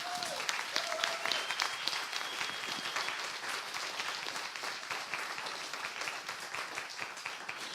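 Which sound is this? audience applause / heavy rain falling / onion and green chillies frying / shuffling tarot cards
audience applause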